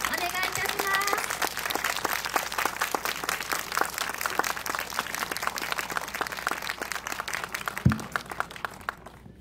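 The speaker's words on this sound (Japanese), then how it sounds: "それでは皆様大きな拍手でお迎えください" Sustained applause from a crowd at an autumn festival in Hakusan, Ishikawa, Japan, welcoming a Gojinjo taiko drum group; dense steady clapping throughout, fading out near the end with a brief thump.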